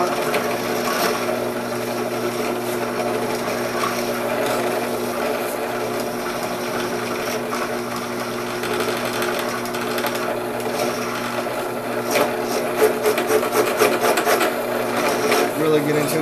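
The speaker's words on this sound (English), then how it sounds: "Take a coarser file to take off a lot of material." A coarse hand file rasps material off a DIY heater nozzle in repeated scraping strokes, steady at first and then quicker and more clipped toward the end, close and fairly loud.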